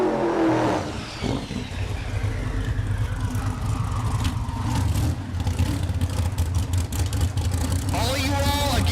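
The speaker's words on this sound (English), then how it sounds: "We'll get Mullet to do a burnout." A drag racing car does a burnout at the SRCA dragstrip in Great Bend, Kansas, its engine roaring loud and sustained with revving surges and tyre screech, and a voice is heard over the noise.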